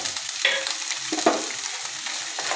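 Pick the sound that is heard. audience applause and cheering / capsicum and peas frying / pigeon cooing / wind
capsicum and peas frying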